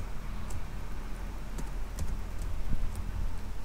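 Someone types R code on a computer keyboard, sending out a steady run of light key clicks over a constant background hum, with no talking.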